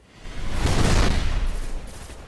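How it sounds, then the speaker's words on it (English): A single main-gun blast in the video game Destiny swells into a broad, booming burst with a rumbling low end, then fades gradually over about two seconds. "I'm just going to use my main gun on these guys"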